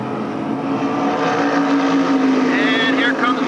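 SK Modified race cars roar loudly at Stafford Speedway as the field goes back to green on a restart, engines surging and rising in pitch, with a commentator talking over the noise.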